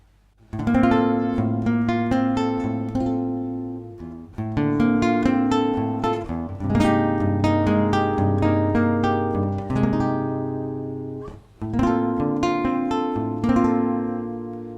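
Acoustic guitar amplified through a Fishman Natural Matrix piezo pickup installed by Vester, strummed chords and picked notes ringing close and clear with a bright, slightly midrange-heavy tone, in several phrases with brief pauses.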